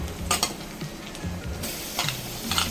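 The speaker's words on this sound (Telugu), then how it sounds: "ఇప్పుడు ఈ నాటుకోడి చికెన్ వేసేద్దాం." Country chicken pieces drop into masala sizzling in a pan, with sharp bursts of frying crackle, a spoon stirring and clinking against the metal, and a steady low hiss between the louder splashes.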